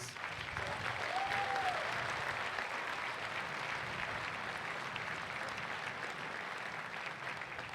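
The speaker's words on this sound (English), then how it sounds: "Could you join me in giving them a round of applause?" Audience applause at a high school graduation ceremony for the class of 2019, a broad, sustained wash of clapping from a large crowd, heard from a distance and continuing evenly throughout.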